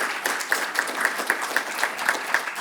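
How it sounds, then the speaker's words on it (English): An audience at an academic welcome event claps continuously, with steady, close applause broken by regular, sharper individual claps that recur at a quick, even rhythm. "So you're clapping for something that you don't know what it is yet"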